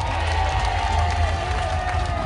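An audience at a Jamaican diaspora gathering in the UK breaks into steady applause and cheering. The crowd noise sounds moderately distant and continuous and carries a faint murmur of voices.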